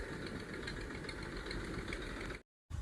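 A tractor engine idles steadily in a potato field, a loud continuous knocking rumble with a brief cut near the end.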